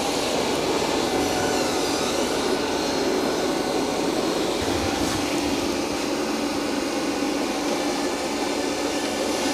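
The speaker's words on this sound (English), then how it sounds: "it's going to start mopping and vacuuming at the same time" A Roborock Qrevo Curv robot vacuum mopping and vacuuming at once, a steady loud broadband whir and hiss that holds without a break throughout, with no voices.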